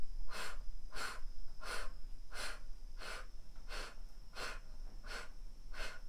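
Steady breathing in and out during a pelvic exercise, about nine evenly spaced breathy pulses over a few seconds, close and soft with no talking.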